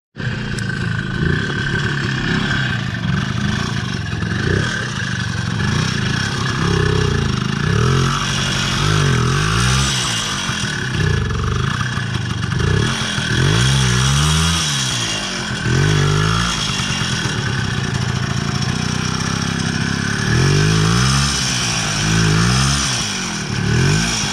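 An Izh Planeta 5 motorcycle engine is revved repeatedly during a test attempt, rising and falling in loud bursts over a steady idle, close by for about twenty seconds.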